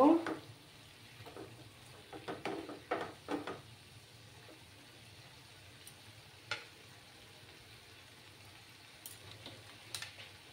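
Cauliflower stems being stirred as they fry over low heat in a pan, a faint soft sizzle with a cluster of scrapes early on and a few scattered taps later.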